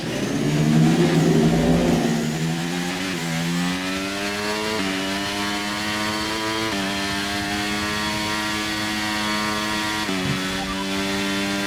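An F1 race car in the F1 23 video game accelerates out of the pit stop, with its engine whine climbing steadily in pitch through repeated gear shifts, loud and continuous, with no talking.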